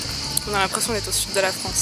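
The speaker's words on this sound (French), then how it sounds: "Vous entendez le bruit des cigales là?" Cicadas on the Princes' Islands off Istanbul keep up a steady high, buzzing drone outdoors, heard continuously under someone speaking close by.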